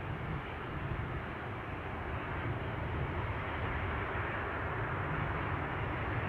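An aircraft performing a go-around at Amsterdam Schiphol, heard as a distant, steady broadband jet roar with a low rumble that hangs evenly in the air without a distinct rise or fade.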